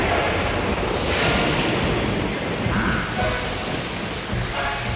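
Steady heavy rain with low rumbling thunder from a lightning storm in the video game Zelda: Skyward Sword, a loud continuous wash with no voices.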